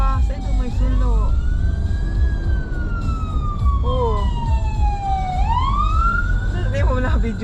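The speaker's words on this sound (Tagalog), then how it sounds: "Meron pa. May fire truck pa." A fire truck siren wails on a city street in Antipolo, Philippines, its rising and falling tone sweeping loudly over heavy traffic rumble while people talk nearby.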